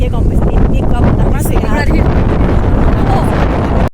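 Strong wind buffeting the microphone near Nimatighat, a loud continuous rumbling roar with gusty flutter throughout, while a voice speaks briefly over it.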